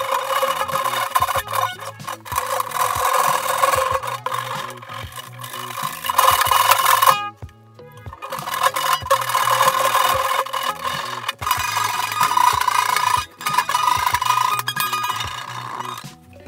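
Guitar strings are rubbed along the length of the fretboard during cleaning, making repeated close scratchy rasping strokes in a steady back-and-forth rhythm with a short pause midway.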